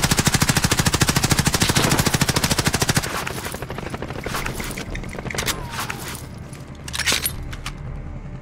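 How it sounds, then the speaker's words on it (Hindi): Rapid automatic gunfire in Call of Duty Modern Warfare, a fast, loud, evenly spaced burst lasting about three seconds, then scattered quieter shots and a closer single crack amid game noise. "someone is shooting"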